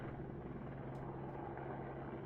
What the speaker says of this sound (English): That's the helicopters that I can hear.